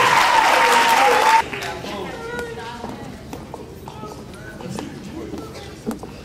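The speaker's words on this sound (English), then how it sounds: "We should give them a round of applause" Brief burst of audience applause for students at a school awards event, loud for about a second before cutting off to quieter room noise, scattered movement and voices.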